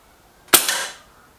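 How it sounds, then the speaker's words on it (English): A single sharp air rifle shot, either a Lee Enfield Sentry or an Artemis M11, cracks loudly and close with a brief decaying tail, and no one speaks. "Okay, first shot."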